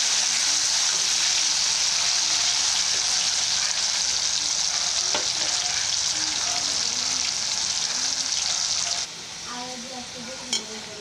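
Potatoes fry in hot oil as a loud, dense sizzle that holds steady for most of the time and then drops to a quieter hiss, with one brief clink near the end.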